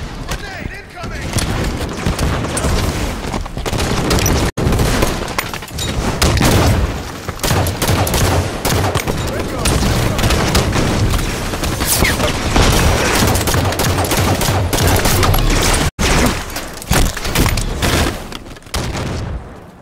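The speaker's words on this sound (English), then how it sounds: "Grenade incoming." Halo 5 combat with a grenade going off among sustained gunfire, loud dense bursts and booms rolling almost continuously at close range, with brief voice callouts mixed in.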